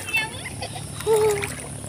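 Someone wades through water in a flooded farm field, with a few soft splashes and sloshes close by while someone talks and a thin whistling tone rises briefly.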